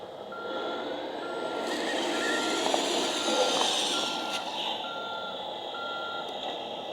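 A 1/14-scale RC hydraulic crane truck reverses, its warning beeper giving a regular series of short tones over a steady whirring motor that swells and then fades slightly.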